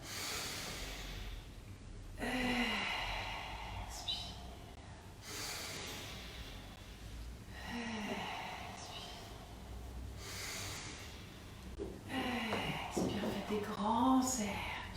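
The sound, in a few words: breathing in and out during yoga exercise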